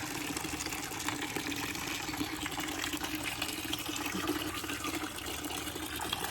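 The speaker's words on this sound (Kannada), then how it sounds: "ಇವಾಗ ಸೋಲರ್ ಟ್ಯಾಂಕಿಗೆ ನೀರು ಆನ್ ಮಾಡಿದ್ದೀನಿ" Water running from a tap into a rooftop solar water heater tank at a home, a steady, continuous gushing and splashing that stays even and fairly close throughout, with no talking.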